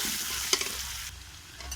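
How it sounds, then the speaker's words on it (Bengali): Potato pieces with salt and turmeric frying in oil, a soft continuous sizzle close by with a couple of sharp stirring clinks near the start, no talk. "আলুতে একটু লবণ দেব আর একটু হলুদ গুঁড়ো দেব, দিয়ে ভালো করে এটা একটু ভেজে নেব।"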